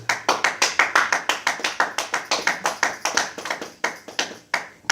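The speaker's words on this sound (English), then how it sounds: "Clap your hand for Jesus." A church congregation claps hands in worship with quick, even, rhythmic beats that stay strong and steady throughout and sound close by.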